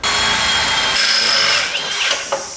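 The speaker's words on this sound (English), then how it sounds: "We're gonna do our first hole, the middle, to mount the fender." A power drill bores a mounting hole in a chopper motorcycle fender, a loud steady high-pitched whine with grinding that shifts in pitch as the bit bites, close up and alone.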